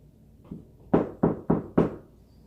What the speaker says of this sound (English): So she knocked one more time.